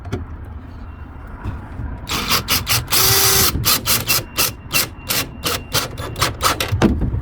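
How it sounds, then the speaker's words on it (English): A power drill drives a long screw, about 1.25 inches, into a dresser drawer slide rail: after a quiet start, a run of short bursts of whirring motor, one longer steady stretch, then repeated quick pulses, close and loud. "let's go ahead and put a screw in there, kind of a long one"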